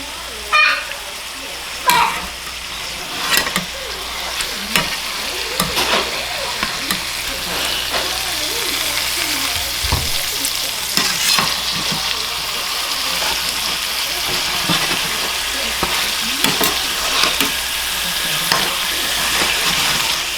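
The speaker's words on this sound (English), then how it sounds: "Beautifully seared salmon on that side" Salmon fillet sears in a pan over medium-high heat, a steady close frying sizzle lasting throughout, with occasional sharper crackles and pops over the constant hiss.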